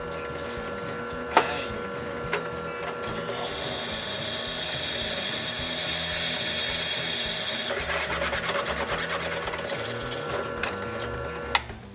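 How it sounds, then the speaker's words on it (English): An electric drill bores a hole in metal, with a steady high whine running several seconds that changes pitch partway through, under a constant mechanical hum and a few sharp clanks. "Just got to drill 1 more hole"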